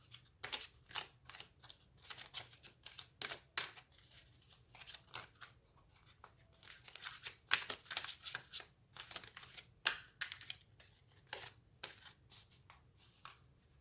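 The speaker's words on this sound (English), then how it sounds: "These are not wanting to shuffle well." Tarot cards are riffled and shuffled repeatedly close by, sticking together, a run of quick papery flicks and snaps in uneven bursts, with no talking.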